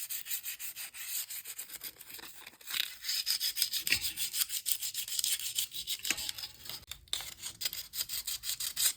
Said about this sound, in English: Once dry, the plaster is sanded smooth, blending seamlessly into the original form.